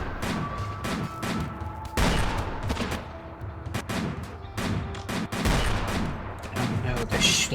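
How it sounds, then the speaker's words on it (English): Rapid volleys of flintlock gunfire in a video game, dense overlapping shots with booming reports and some crackle, steady and loud throughout with brief gaps. "they're shooting me with a flintlock"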